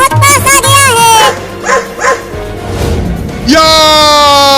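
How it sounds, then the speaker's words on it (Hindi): A dog in a cartoon animal story barks several times in quick bursts, loud and close, alternating with animated character voices speaking over the scene. "कुत्ता बहुत पास आ गया है"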